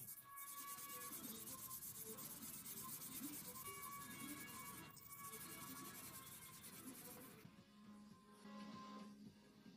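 Wet sanding of a varnished plywood table with 400 grit sandpaper gives a continuous, even scraping rub up close, with brief changes in stroke near the middle and toward the end.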